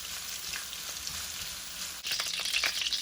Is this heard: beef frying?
yes